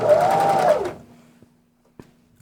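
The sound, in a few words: sewing machine stitching a hat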